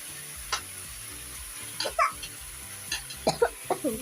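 Bottle gourd fries in a hot pan with a steady, close sizzle, broken by scattered clinks and scrapes from stirring and a few soft coughs or murmurs in the background.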